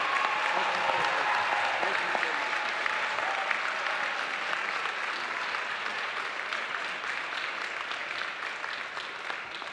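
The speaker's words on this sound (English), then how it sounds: "Can we give the governor one more round of applause?" A graduation crowd at Lincoln University gives the governor a sustained round of applause, a dense, steady clapping that holds for nearly ten seconds and tapers slightly.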